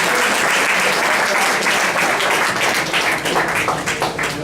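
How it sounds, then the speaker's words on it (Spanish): An audience at an engineering talk in a Mexican institute breaks into loud, sustained applause, dense clapping filling the room steadily from start to finish. "Démosle un fuerte aplauso al maestro"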